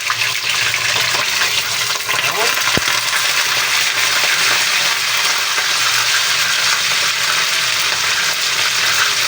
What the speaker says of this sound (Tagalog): magpiprito na tayo ng ating tilapia